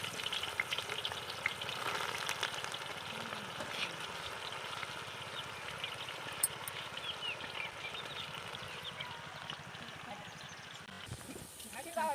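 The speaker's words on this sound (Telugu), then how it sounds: "బిర్యానీ కోసం ఉల్లిపాయల్ని గోధుమ కలర్ వచ్చే వరకు మంచిగా వేపుకోవాలి" Onions fry in oil for egg biryani at an outdoor mango-grove cooking spot, a steady dense sizzle running throughout with occasional stirring scrapes and faint background voices.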